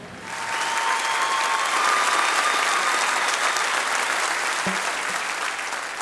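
A live audience at the Grand Ole Opry applauds in a large hall, with loud, sustained clapping that swells and then slowly tapers off, a few whoops in the crowd.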